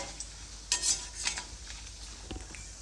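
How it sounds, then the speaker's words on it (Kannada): Dried coconut frying and being stirred in a pan for a spiced flattened-rice snack mix, with a soft steady sizzle broken by a few scraping stir strokes and light utensil clinks against the pan. "ಒಣ ಕೊಬ್ಬರಿನ ಸ್ವಲ್ಪ ಬ್ರೌನ್ ಕಲರ್ ಬರೋವರೆಗೂ ಫ್ರೈ ಮಾಡ್ಕೊಳ್ಳಿ"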